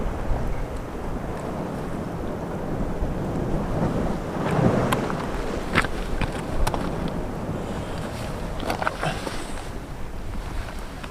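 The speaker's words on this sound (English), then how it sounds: "The rain's still coming down a bit." Steady rain pours down during a fishing outing on the Scottish coast, a dense continuous hiss mixed with wind buffeting the microphone and a few faint knocks.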